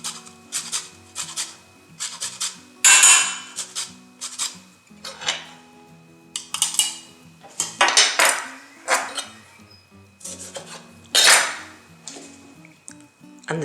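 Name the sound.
zesting a lime for guacamole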